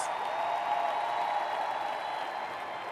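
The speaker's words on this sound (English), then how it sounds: "Get out of your seats and give him a round of applause." Audience applause at a sales training event in Atlantic City, a steady distant wash of clapping from a large crowd, fairly faint and even throughout.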